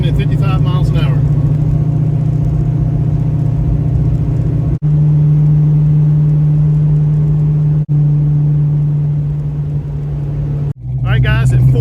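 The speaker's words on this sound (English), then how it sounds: "Let's fire up the Original 40s and see just how much noise punishment they deliver. Here we go. Cruising at 55 miles an hour." A Fox Body Mustang fitted with FlowMaster Original 40 exhaust cruises at 55 mph, a loud, steady, deep droning rumble held almost continuously with brief dips, heard close from outside.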